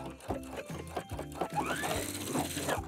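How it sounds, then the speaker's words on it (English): A sewing machine backstitches a pocket seam on pajama pants, a close rapid mechanical chatter in short stop-and-go bursts of stitching. "backstitch at the beginning and the end of this, making this nice and secure"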